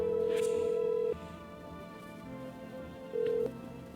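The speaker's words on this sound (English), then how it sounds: "Yeah, let me call the neighbor." Telephone dialing in the video game No, I'm Not a Human: steady tone bursts over a low electronic hum, the first long and the last short, heard alone and close.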